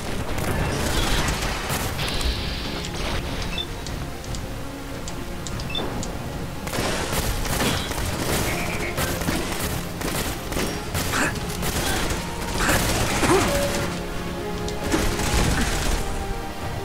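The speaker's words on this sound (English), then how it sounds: "Jeez, stop shooting me!" Repeated gunfire and booming hits in Fallout 4 rain down on the player in bursts, with mechanical clanks between them, over a steady noisy background.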